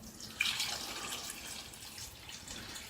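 Water trickles steadily and quietly through new aquarium filters during a fresh tank setup, a faint continuous splashing with no voices.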